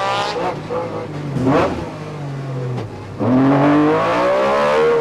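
A Group N rally car pulls hard away from the start line in a park rally, its engine revving up through rising pitches in a loud, close surge, with a brief lift before climbing again.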